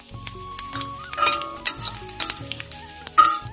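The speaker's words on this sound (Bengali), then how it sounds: "প্রথমে হালকা তেল দিয়েছি, সাদা তেল, তারপর দিচ্ছি 5 ফোড়ন, এবার দিলাম একটা শুকনো লঙ্কা আর সামান্য তেজপাতা" Five-spice seeds, a dried red chilli and bay leaves sizzle steadily in light white cooking oil for Bengali mango chutney, a close, continuous frying crackle with occasional clinks of a stirring utensil against the pan.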